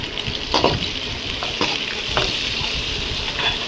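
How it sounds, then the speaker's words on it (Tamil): Shallots and curry leaves fry in a pan, making a constant bright sizzle while a spoon stirs and scrapes now and then, close and steady throughout. "நல்லா கிளறி விட்டுக்கலாம்."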